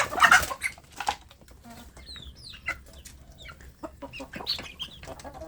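Village chicks (anak ayam kampung) at a feeding spot make short, scattered high peeping and clucking calls close by, with a few louder bursts and some wing flapping between the calls.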